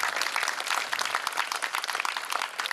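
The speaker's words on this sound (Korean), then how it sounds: "영광의 박수를 올려주시기 바랍니다" Applause from an audience at a church event at night: a dense, steady clapping that holds throughout at moderate loudness, with no voices over it.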